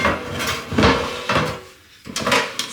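A heavy dish is set down on a hard surface with a few solid clunks and clatters, close and fairly loud.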